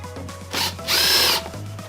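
Electric screwdriver whirring as it backs screws out of a Kirby vacuum cleaner, with a short burst followed by a longer, louder run, close up and with no talking.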